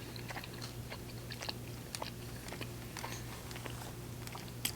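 Extra crispy, chewy Buffalo Wild Wings chicken wings, overcooked from sitting in the fryer, being bitten and chewed up close: repeated crisp crunches and wet mastication in an irregular rhythm, quiet and close, with no talking.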